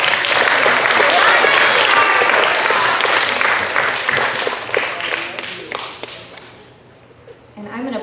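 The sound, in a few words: audience applause at a school ceremony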